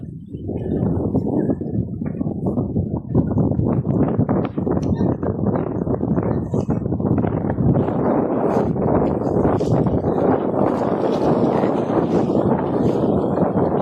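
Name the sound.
strong wind blowing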